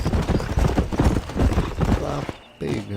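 Horse hooves gallop in a fast, steady clip-clop rhythm in Red Dead Redemption, close and loud, with a brief drop near the end before the pounding resumes.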